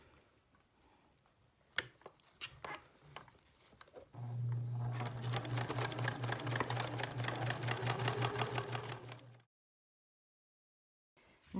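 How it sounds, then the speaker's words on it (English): A sewing machine runs a zigzag stitch along a fabric seam, starting after a few handling clicks and whirring steadily with a fast rapid patter for about five seconds before stopping abruptly into silence. "So I'm just going to do a zigzag stitch."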